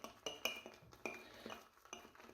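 Regiment Fiddler's Green shaving soap is whipped into lather in an Old Spice mug, producing quiet, rhythmic scraping strokes with light clinks against the mug, close and unaccompanied by speech.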